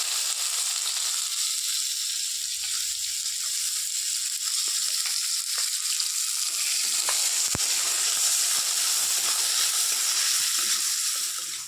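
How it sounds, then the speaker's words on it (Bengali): Chopped medium onion frying in a pan of oil while khichuri is prepared with leftover rice and vegetables, giving a steady, close, unbroken sizzle for the whole stretch with no voices. "পেঁয়াজটা আমার অনেকটা ভাজা হয়ে গেছে"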